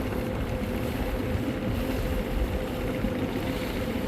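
A passenger launch, the Nuria 2, running on a local river route between Shariatpur and Narayanganj gives a steady, continuous low engine drone with a broad watery rumble, heard on its own without talk.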